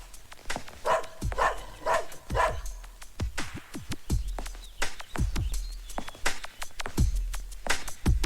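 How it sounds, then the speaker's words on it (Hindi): Indoors, a dog barks again and again in a house, loud, sharp bursts recurring across the span, with faint bird chirps in the background. "ये रोमियो क्यों भौंक रहा है?"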